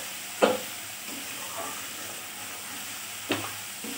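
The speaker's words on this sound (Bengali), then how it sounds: "মশলাটা আমি ততক্ষণই কষাবো যতক্ষণ মশলার" Spice paste frying for a tilapia fish curry: a soft, steady sizzle under two sharper scraping strokes of a spatula, near and fairly quiet.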